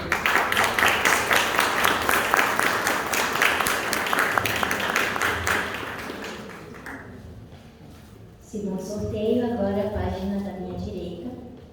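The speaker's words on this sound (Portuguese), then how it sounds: "Uma salva de palmas, por favor." A round of applause from an audience at a book-giveaway gathering, brisk clapping that fades after several seconds before people begin talking.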